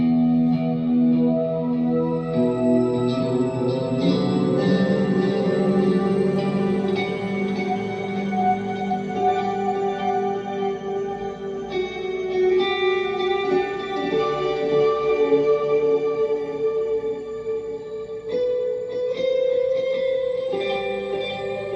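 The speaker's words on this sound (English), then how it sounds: "I sometimes like to use this really spaced out reverbish type effects in some of my songs." Clean electric guitar drenched in spaced-out ambient reverb and chorus-like effects, sustained chords and notes blooming and washing together at a steady, moderate level with no talking.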